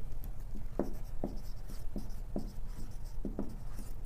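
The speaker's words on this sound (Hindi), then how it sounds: "नेग्लेक्टिंग लिख देता हूँ मैं यहाँ से" Marker or chalk writing on a board during a math lesson on infinite series, a faint series of short scratchy strokes at an irregular pace over a steady background hiss, with no talk.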